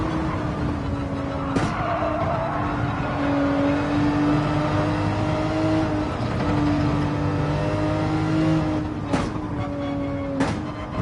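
Porsche 911 GT race car in Gran Turismo 7 racing on Dragon Trail, engine holding a loud sustained drone with gear changes and sharp clicks, pitch shifting as it brakes and accelerates through turns.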